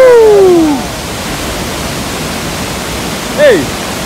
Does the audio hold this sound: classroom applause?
no